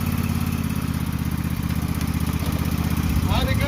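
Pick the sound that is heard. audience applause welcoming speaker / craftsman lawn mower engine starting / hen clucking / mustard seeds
craftsman lawn mower engine starting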